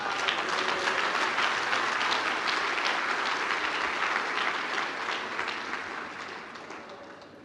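A church congregation applauds, many hands clapping in a thick, steady roar that holds for several seconds and then gradually tapers off, no speech over it.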